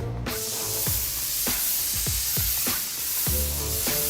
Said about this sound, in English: then there's the spray, there's the paint that comes out